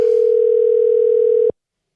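A phone call rings out while waiting for pickup, a single steady electronic tone held for about one and a half seconds before stopping abruptly into silence.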